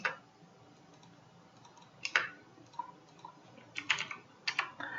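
Names are typed on a computer keyboard in a quiet room, a few short bursts of crisp key clicks separated by pauses, close-miked and fairly soft, with no voices.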